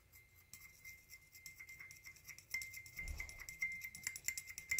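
A dotting stylus stirs alcohol in a glass, giving faint, intermittent clinks and light scraping taps against the glass in a quiet room, growing slightly busier toward the end.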